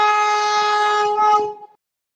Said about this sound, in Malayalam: വന്ദേ ഭാരത് പോയതാണ്